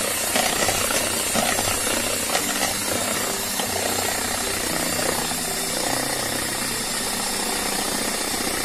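An electric beater whirs steadily in a bowl of black forest cake batter, a constant grinding motor drone with a rattling edge that continues loudly without pause.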